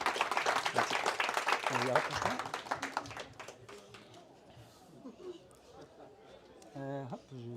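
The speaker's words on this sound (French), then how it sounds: "je vais vous demander de l'applaudir" A meetup audience claps for about three seconds, dense but fairly light applause that fades out as a voice starts speaking over the room.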